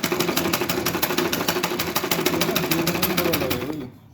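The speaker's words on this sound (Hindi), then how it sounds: "तब मैं सिलाई लगाऊंगी इसमें" A sewing machine stitches fast and continuously along a blouse neckline, a loud rapid mechanical clatter at close range that stops abruptly near the end.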